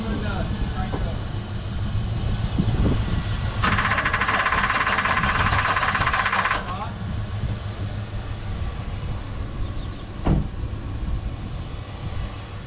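A 1984 Chevy truck, dead for two years, cranks over with a rough, knocking engine churn throughout, joined midway by a loud, sustained whirring drone before settling back into steady cranking; voices talk faintly in the background.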